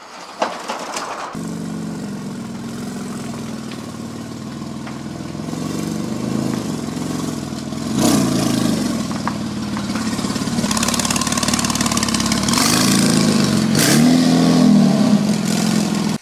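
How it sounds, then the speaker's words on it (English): Porsche 911 Turbo engine running steadily at idle and building with rising revs, loud and close throughout with no talking, its note climbing toward the end. "Now I present to you the 911 Turbo."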